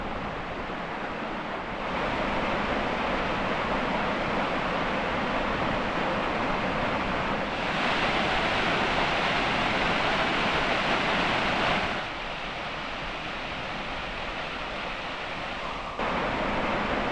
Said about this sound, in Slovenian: Tole pa je Javorniški slap, na istoimenskem potoku Javornik.